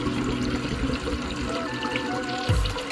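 Water runs steadily into a toilet tank as it refills after repairs, a continuous close hiss and trickle, with a brief louder gurgle near the end.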